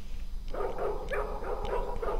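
A dog barks in the video game Baphomets Fluch II (Broken Sword II), with a run of about five sharp, evenly spaced barks, close and loud over a low background hum.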